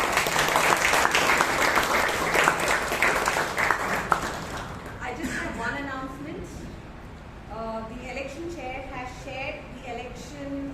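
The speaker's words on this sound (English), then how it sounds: "Let's give a huge round of applause for our ourselves." Applause fills a Toastmasters meeting room in Bangalore, dense clapping for the first five seconds before thinning out as people begin talking over the fading claps.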